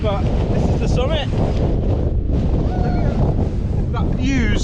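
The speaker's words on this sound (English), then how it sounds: "Very windy. So windy, I'm having to hold on." Strong gusting wind buffets the microphone on the summit of Moel Siabod, a loud constant roar with people's voices talking through it.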